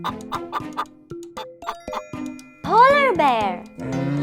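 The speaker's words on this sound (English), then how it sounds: "chicken." A chicken clucks and squawks loudly in a few rising, strained calls near the end, after a run of short plucky musical notes, with a voice mixed in.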